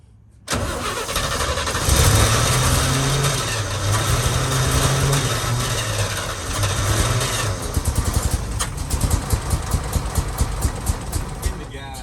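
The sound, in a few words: 1966 International Harvester 1100A engine cranking and starting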